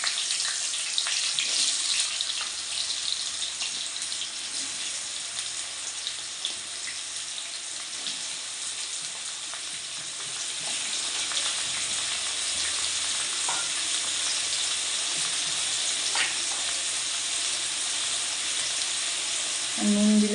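Potatoes dropped one by one into hot tempering oil for sabudana khichuri hiss with a steady, close sizzle that swells partway through, along with faint clinks and stirring noises.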